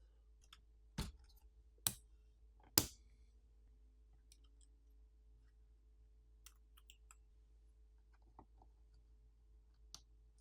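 Small plastic latches on the flex cable connectors inside an HP 14-inch laptop being flipped up during disassembly, giving three sharp close clicks in the first few seconds, then faint scattered ticks in a quiet room.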